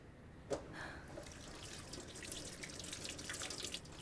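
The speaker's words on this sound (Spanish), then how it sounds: "Te pondré agua fría." Cold water running from a kitchen tap: a steady, close splashing stream that starts after a brief knock and flows on evenly, with a few faint clinks.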